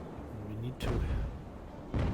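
Cannon fire from a sailing warship in the naval strategy game Ultimate Admiral: Age of Sail, two deep booming shots about a second apart, the first following a low engine-like hum and the second cutting off at the end.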